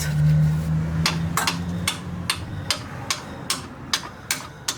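Sharp metallic hammer blows drive a steel bolt through an aluminum engine mount with a rubber bushing on a 2009 Chevrolet Aveo5, about a dozen at a steady pace, getting a little louder toward the end over a low hum.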